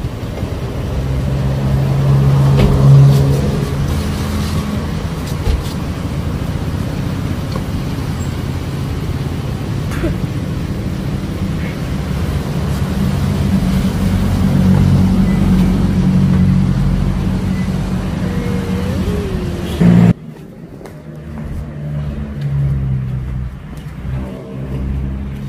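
A car drives slowly toward an alley entrance and pulls up to park, its engine a steady close rumble that cuts off abruptly near the end, leaving quieter street ambience.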